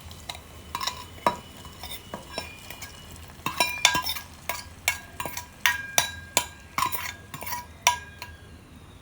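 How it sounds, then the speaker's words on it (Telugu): A spoon knocks and scrapes against a metal pot while a tempering mixture is stirred into moong dal rasam, giving a run of sharp, regular clinks close by with no talking. "ఇప్పుడు మనం పోపు పెట్టుకున్న ఆ మిశ్రమాన్ని కూడా దీంట్లో వేసేసుకుందాం."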